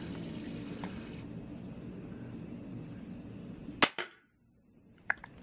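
A Mantis shooter set to high power fires a 400 grain bolt, giving one sharp, close snap with a short clatter right after it over faint background noise. Silence follows, then a small click.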